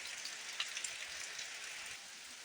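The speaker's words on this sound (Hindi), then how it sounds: "और बारिश तो रुकने का नाम ही नहीं दे रही, हद ही कर दी बारिश ने तो।" Steady rain falling in heavy monsoon weather, a continuous hiss of drops on surfaces, even and moderately faint with no voices.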